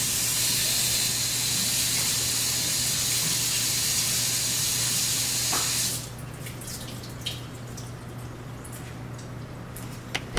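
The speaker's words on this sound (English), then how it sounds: "I'm going to go over and just rinse them out real quick." Jarred roasted red peppers are rinsed under a running kitchen tap, a loud steady rush of water for about six seconds that then cuts off, leaving a few faint drips and clicks.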